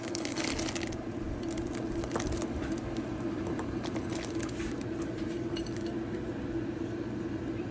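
A pot of milk with rice, cardamom, cinnamon, bay leaf and jaggery being stirred for winter pitha, with continuous scraping and clinking of a spoon against metal, steady and close.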